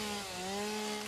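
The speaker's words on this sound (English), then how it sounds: "The first time you pull out the chainsaw" A chainsaw pulled out in the game Satisfactory, a steady buzzing motor drone with a slight pitch shift, short, close and with no voices.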